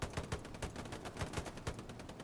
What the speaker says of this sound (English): Look at Bill going away with that MG right there